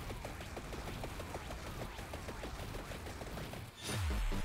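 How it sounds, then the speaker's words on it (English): The spread gun fires a rapid, dense stream of shots in the Vampire Survivors video game, closely packed game-style bursts at steady volume, ending in a louder sweeping effect. "Let's hit you with all the spread gun."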